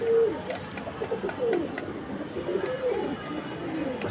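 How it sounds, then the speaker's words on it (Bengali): Repeated soft cooing from a black male pigeon, a series of low throaty calls close by, with steady faint background noise and no talking. "এটা নর কবুতর, আর মাইদম কবুতরটারই জোড়া।"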